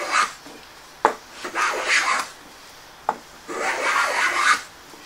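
A hand plane takes thin shavings off a wooden toolbox top, the strokes coming as several close, breathy rasps, each starting with a sharp click as the blade bites, heard alone with no talk.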